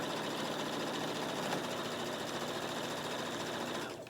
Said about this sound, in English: And I just sew, and I just try to keep the lining fabric